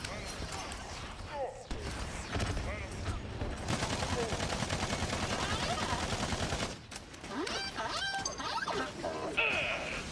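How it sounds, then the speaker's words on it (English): Gunfire in the video game Battleborn, with rapid bursts of shots crackling almost without pause under game effects and a talking voice. "I don't know what I'm shooting at, so I'm just shooting"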